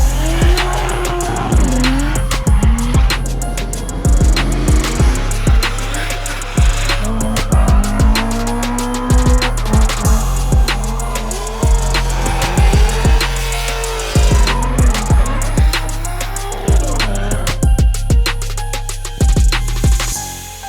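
A drift car with a 1JZ engine revs loudly and repeatedly close by, its tires squealing and skidding in bursts amid constant racing-engine noise.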